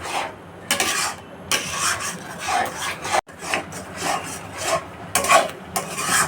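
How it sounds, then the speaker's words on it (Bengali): Thickening raw mango pulp with sugar is stirred in a kadai, giving steady rasping, scraping strokes of a spoon against the pan in close, continuous bursts with brief pauses between passes. "ঘন না হওয়া পর্যন্ত এটাকে এভাবে নাড়তে হবে যাতে কড়াইতে লেগে না যায়"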